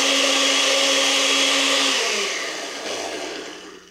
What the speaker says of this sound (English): So I'm going to put the blender on, and then I'm just going to pour this hot milk in